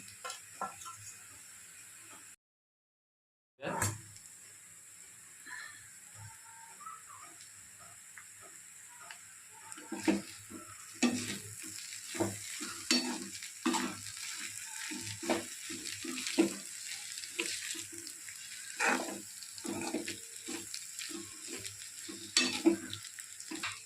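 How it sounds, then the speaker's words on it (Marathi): Noodles with noodle masala and spices are stirred in a frying pan, a soft sizzle running under quick, repeated scraping and tapping strokes of the spatula that grow louder and busier partway through, with one brief gap of silence early on. "सर्व मसाले टाकून त्यांचे चांगल्या प्रकारे आपण मिश्रण करून घेतलेलं आहे"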